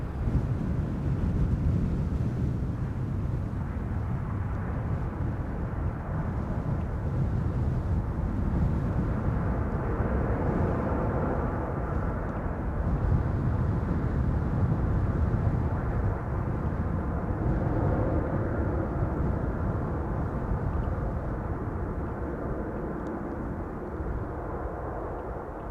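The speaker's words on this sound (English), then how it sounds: "Ryanair just now passing by," A Ryanair airliner passes by while landing at Amsterdam Schiphol, a steady deep rumbling roar that holds loud for most of its length and eases slightly toward the end.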